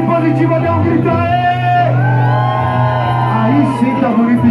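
A crowd at a live band show in a bar in Santos, Brazil shouts and whoops loudly and continuously, many voices blending into a sustained roar close to the mic.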